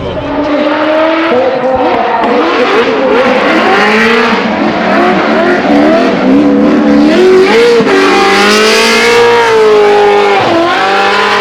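A Nissan Silvia S15 drift car revs hard and loud, its engine pitch rising and falling through continuous high-rpm pulls with no break, at a drift event on a circuit.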